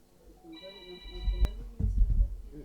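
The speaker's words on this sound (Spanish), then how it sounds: "¿Teléfono?" A telephone rings in a church meeting room, a short electronic tone with steady bright pitches that starts partway in, followed by a sharp knock and low shuffling and voices nearby.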